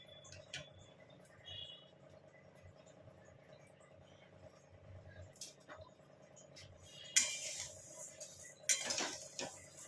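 Dry vermicelli pours into a heated pan, with sparse clinks and taps in a quiet room followed by short, sharp rattling bursts toward the end.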